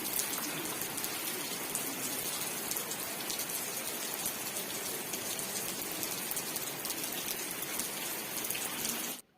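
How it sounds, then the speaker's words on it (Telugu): Steady, dense rain falls on the Arunachalam hill circumambulation path near a lingam shrine in Tiruvannamalai, a continuous close hiss that holds even throughout and then cuts off at the very end. "కరెక్ట్గా మేము వర్ణలింగం దగ్గరికి రీచ్ అయ్యేసరికి వర్షం అయితే స్టార్ట్ అయిందండి"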